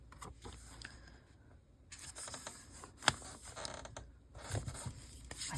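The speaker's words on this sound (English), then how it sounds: "My squeaky table." A squeaky table creaking in short intermittent squeaks and clicks, faint and close, amid quiet rustling of paper during crafting.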